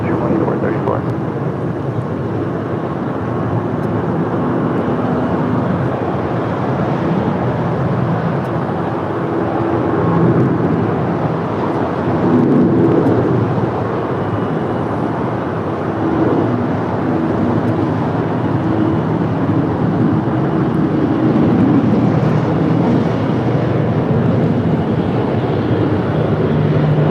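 A heavy Boeing 777 lands on runway 25 Left at LAX, heard as a broad, steady jet roar that swells and fades across the clip, loud and continuous with wind-like rumble underneath.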